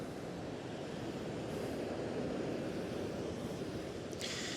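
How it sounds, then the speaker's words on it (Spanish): Sea waves wash onto the shore of the central Chilean coast, a steady broad rushing roar with some wind, heard from nearby and without any voices. "Miren, el mar."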